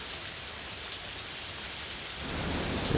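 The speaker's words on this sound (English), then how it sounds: "enjoying a nice fish in the rain by a waterfall" Steady rain falling by a waterfall in Harvest Moon: A Wonderful Life, a dense, continuous hiss of water with no distinct drops, fairly loud and unbroken, swelling slightly toward the end with a low rumble, no voices.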